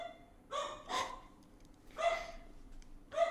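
A dog barks in three or four sharp bursts, spaced unevenly and fairly close, with a quiet room in between.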